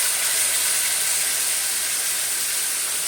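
Spices sizzle in a pan after water is poured in while cooking village-style mutton curry with potato, a loud steady hiss that carries on unbroken.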